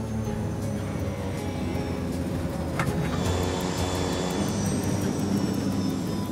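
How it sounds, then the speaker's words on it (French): Aircraft engines of a Manx2 commuter flight (flight 7100) on approach as the captain cuts power, a steady loud drone filling the cabin with a faint high whine, no voices. "Le capitaine réduit la puissance."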